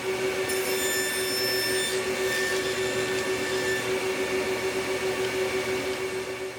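A table saw rips solid maple into strips, a steady loud whine with a high tonal ring running continuously under broadband cutting noise, no voices.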